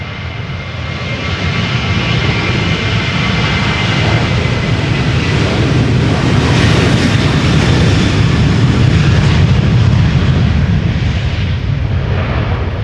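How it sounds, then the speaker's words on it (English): Engines of a Boeing 737-800 bound for Dublin spool up for takeoff on Schiphol's Polderbaan runway, a loud, close, sustained roar that swells after the first second and holds heavy and rumbling throughout, with no voices. "And this is Reiner going to Dublin. 737-800, flight 421."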